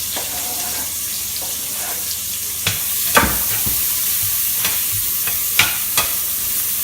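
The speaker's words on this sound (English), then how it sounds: "And then onions and garlic straight in. You want the onions to release all their sweetness." Onions and garlic hit a hot pan for a Bolognese sauce, giving a steady close sizzle and frying hiss with a few sharp clacks of stirring or utensil contact, no talking.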